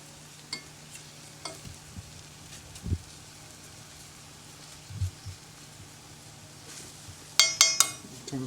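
Flour browns in a hot pan for homemade gravy for smothered pork chops, with a soft steady sizzle under occasional scrapes and knocks of stirring, then a few bright metallic clinks near the end.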